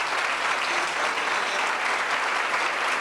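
Sustained, dense audience applause at a 1999 choral festival greets a youth choir taking the stage, a steady wash of clapping from start to finish with no voices over it.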